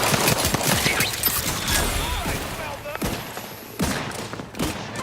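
Gunfire is aimed at turrets in The Outer Worlds, a dense run of loud sharp shots and mechanical clatter across the whole stretch, with a voice talking over parts of it.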